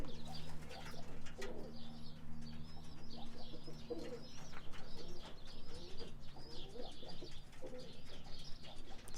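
Young pigeons being trained move about outdoors, with repeated soft cooing, scattered chirps and bursts of wing flapping over a low background hum.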